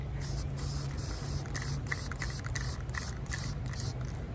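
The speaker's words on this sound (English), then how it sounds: "So we're gonna spray paint that with the Uber Matte Blue." Spray paint hisses in short repeated bursts, about eight or nine pulses, as a fishing lure tumbler gets coated in matte blue, close and steady over a low constant hum.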